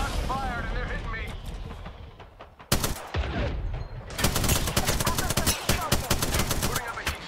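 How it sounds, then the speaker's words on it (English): Gunfire in the battle royale game Apex Legends: rapid automatic bursts and sharp single shots in close, loud clusters, with an explosive crack midway and a dense barrage near the end. "Nine shots fired and they're hitting me."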